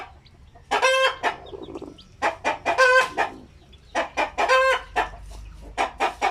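Basilan chickens cluck and chirp close by in bursts of calls, some longer and crowing-like, separated by short pauses, with no talking over them.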